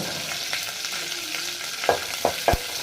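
Cumin seeds frying in hot oil in a pot, a steady crackling sizzle with a few sharp spoon clinks against the metal near the end.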